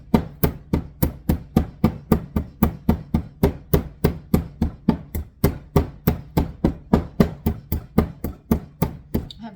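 Black peppercorns and salt being crushed in a kitchen, heard as a steady run of about thirty sharp, evenly spaced pounding knocks, close and clear with no talk.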